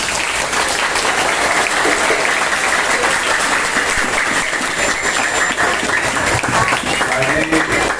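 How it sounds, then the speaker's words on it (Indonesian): A school audience at an Isra' Mi'raj gathering at SMP Negeri 1 Gayam applauds a Quran reciter with loud, dense, steady clapping that fills the whole stretch, with voices faintly mixed in. "Tepuk tangan dulu."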